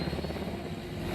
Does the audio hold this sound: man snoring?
no